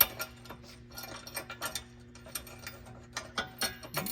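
A ratchet tightening an original bolt on a 2022 Toyota Tundra front bumper, soft irregular clicks in short uneven bursts, faint and close, with no talk.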